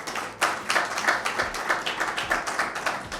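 An audience at a mushaira applauds a poet, a moderate, fairly sparse round of hand claps with a loose, rhythmic patter that stays steady throughout.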